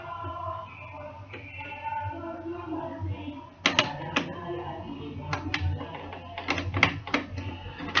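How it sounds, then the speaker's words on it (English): A small screwdriver works screws out of the DC motor on a dismantled CD-ROM drive, with close, sharp metallic ticks and scrapes coming in quick irregular clusters, some talk underneath. "just put a small screwdriver and remove these two screws holding the DC motor"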